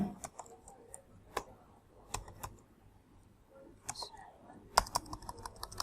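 HTML code being typed on a computer keyboard: quiet, close, irregular key clicks and taps in short bursts with pauses, over faint room hiss.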